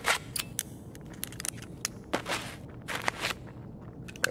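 Footsteps of an approaching scav in the Escape from Tarkov shooter, a series of soft, irregular steps at moderate distance amid gritty game ambience, with no talk over them.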